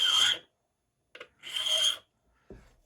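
Hand file rasping across a duplicated key blank for an antique Corbin padlock, in two loud strokes of about half a second each, followed by a short faint scrape and a low knock.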